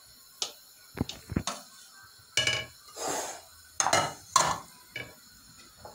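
Semolina tipped out of a couscoussière pot in a kitchen: a scattered run of clinks, scrapes and soft pouring rustles, some sharp metal knocks, moderately close, no speech.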